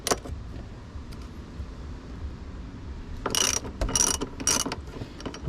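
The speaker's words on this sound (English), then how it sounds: "now I'm gonna use this wrench" Wrench ratcheting against a front seat bolt in a 2007 BMW X3, with quiet cabin background and then three quick bursts of clicking near the end.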